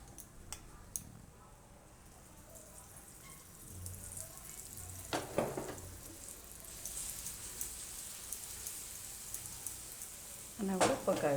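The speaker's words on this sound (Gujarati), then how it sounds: "બસ આને આપણે શેકી લઈશું." Methi aloo paratha roasting in a little oil on a pan over low gas: faint, steady sizzle and crackle with a few sharp clicks and a louder spatter at the end, under soft talk.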